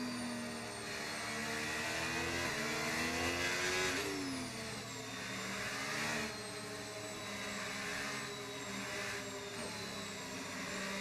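A Mercedes safety car engine in an F1 racing video game at Miami makes a continuous droning hum that rises and falls in pitch over about eleven seconds, with no talk over it.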